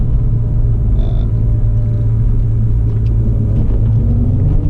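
A Jaguar E-Type on a New Zealand road, its engine giving a deep, steady, loud rumble from inside the car while driving, with a constant low drone and no speech.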